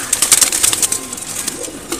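Two pigeons scuffle in a brief fight, a quick run of close, sharp wing flaps and thumps over a couple of seconds.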